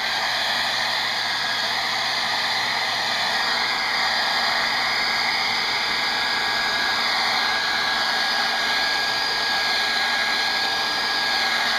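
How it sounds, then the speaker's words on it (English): A hair dryer blows steadily across wet watercolor paint on paper, a loud continuous whooshing hiss with a constant motor whine, close by and unbroken for the whole stretch with no talking. "Now, it's nice to have your hair dryer handy."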